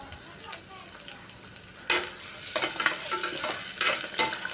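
Small shallots sauté in a hot pan for Ramadan nombu kanji. A soft sizzle runs throughout, and louder bursts of stirring and frying come in the second half, close and with no talk.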